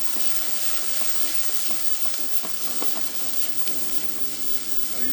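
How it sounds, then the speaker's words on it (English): Onions sautéing over high heat in a pan for a chicken and kielbasa pasta, with a steady close sizzle and scattered stirring clinks and scrapes throughout. "Now, these onions are starting to sweat nice and quickly, getting some color on them already because I started off with high heat."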